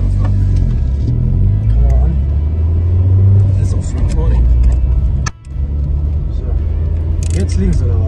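A Peugeot 106 rally car pulls away with a deep, loud engine rumble and rising revs, heard from inside the car while people talk over it.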